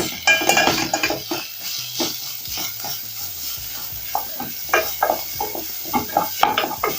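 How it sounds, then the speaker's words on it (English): Minced meat stirred in a cooking pot, a near, loud scraping and clinking of a utensil against the pan with soft sizzling underneath, irregular strokes continuing throughout. "I'm going to give this a stir as I break these large balls into small balls"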